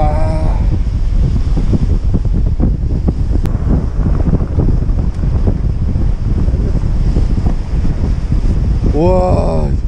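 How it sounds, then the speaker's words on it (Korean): Strong wind on the coast at Yamido, Gunsan, during a surf-casting fishing trip. It buffets the microphone in a loud, continuous roar, and a voice is briefly heard near the end. "바람 진짜"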